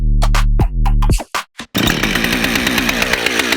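A chainsaw cutting a log into lumber for a homestead house remodel idles and revs in uneven bursts, then bites into the wood with a loud, sustained, rough cutting roar close to the listener.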